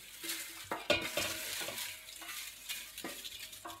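A wooden spoon scrapes and stirs through dry, crackly kale crisps in a pan, with irregular rustling crunches and knocks, close up and fairly quiet.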